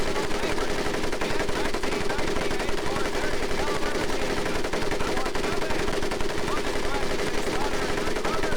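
A machine gun in Medal of Honor Pacific Assault, fired during boot camp training, rattles in a dense, unbroken stream of rapid shots that stays loud and steady the whole time.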